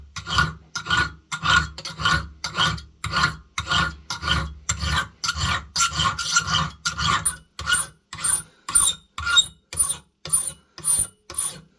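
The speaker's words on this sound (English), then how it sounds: "What I'm going to do is file the top of the spring to thin it out" Steel flintlock pistol mainspring being thinned with a hand file: steady, evenly paced rasping strokes, about two per second, loud and close with no talk.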